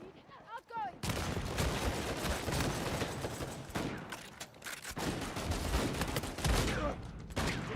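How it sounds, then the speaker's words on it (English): Fully automatic shotgun blasting in a video game: after a brief quiet opening, a loud, dense, continuous barrage of rapid shots fills the rest of the clip with little pause. "I love a fully automatic shotgun, bro. This man is shooting this like a fucking, like, Origin 12 from Warzone."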